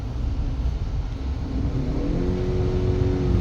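A 2023 Ford Maverick Lariat Hybrid engine revs in sport mode, a loud, close droning rise that climbs steadily in pitch toward the end, with no voices over it.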